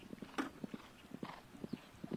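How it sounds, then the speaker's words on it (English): Horse hooves clip-clopping on turf at a polo match, a steady run of close, distinct thuds in uneven rhythm, fairly faint with light background noise. "Beautiful looking horse here."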